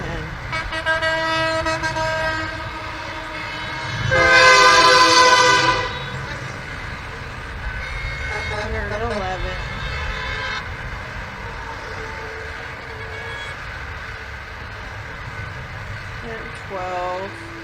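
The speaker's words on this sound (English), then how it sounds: "I'm going to let y'all listen to the honks here for a minute again" Air horns from a truck convoy circling the Washington, D.C. Beltway sound in a loud sustained blast near the middle, with fainter honks before and after over steady traffic noise, while someone talks.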